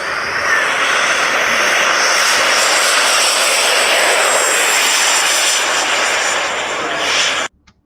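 A radio-controlled F-16 model jet in an Arctic paint scheme takes off, its turbine roaring loud and steady for several seconds before cutting off abruptly.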